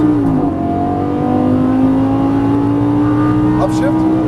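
A Lamborghini Gallardo LP550 on a race track, its engine note climbing steadily under full throttle, loud and close, with someone talking over it throughout.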